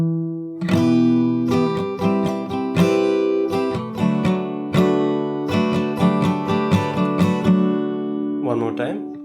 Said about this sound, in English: So the last 4 chords sound like this.